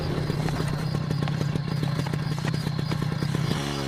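A motorbike ridden along a road, its engine a steady loud drone with rapid rhythmic pulsing throughout, then easing off near the end as the bike slows.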